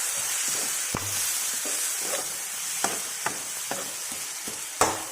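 Curry with chilli powder, tomatoes and bottle gourd seeds is mixed in a pan, a constant frying hiss punctuated by a series of spoon knocks and scrapes against the metal.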